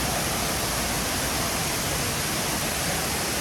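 Kroeng Krawia waterfall in Sangkhla Buri, Kanchanaburi, a continuous loud roar of falling water, steady and close with no pauses.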